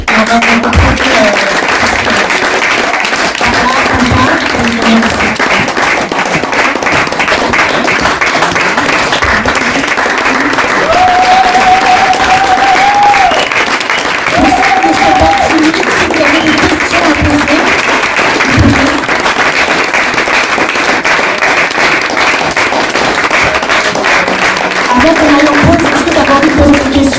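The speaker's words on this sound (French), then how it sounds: "Venez sur scène, on va vous applaudir encore" Audience applause for people called up on stage at a cultural event: sustained, loud clapping from a crowd with a few voices and cheers rising through it, continuing unbroken for nearly half a minute.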